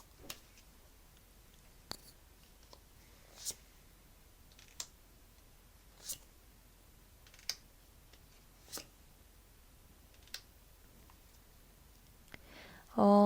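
Tarot cards drawn and laid down for a reading, giving sharp, light card clicks and snaps at fairly even intervals of about one and a half seconds, close and quiet, with a louder clatter at the very end.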